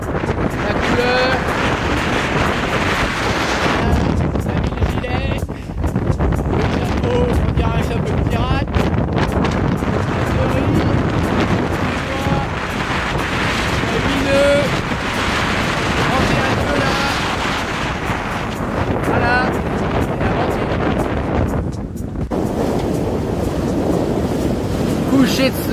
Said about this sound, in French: Le vent est revenu dans le bon sens.